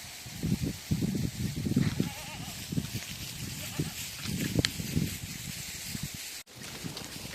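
Sheep bleat in a village on a hot day, several calls overlapping in bursts nearby, with someone talking over them.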